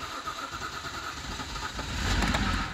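A rebuilt BMW E90 with an N52B25 inline-six cranks and catches, a steady mechanical whir that swells into a louder, rougher roar in the last second, close by with no talk.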